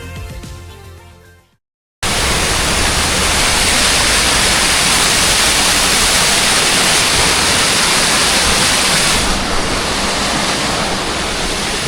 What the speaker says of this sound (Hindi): मसूरी झील के पास एक ये झरना है, बिल्कुल नेचुरल वाला झरना है